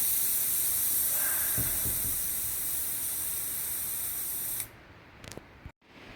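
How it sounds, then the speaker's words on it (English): Steady broadband hiss of air escaping from a bicycle tire valve, loud and continuous for several seconds, then abruptly cut off, followed by a few faint clicks and brief noise bursts. "Let the air out of this tire."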